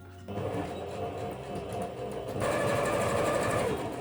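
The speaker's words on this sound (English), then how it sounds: "now you just need to sew this edge here" A sewing machine runs a single straight seam along the edge of a fabric book cover, a steady close mechanical whir that quickens and grows louder partway through.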